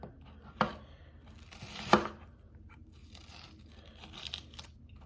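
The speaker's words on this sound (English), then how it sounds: "Just cut it. Every piece is just like a long small onion" A knife cutting onions into long strips on a board, two distinct crunchy chops followed by softer slicing and crinkling sounds, close and without talking.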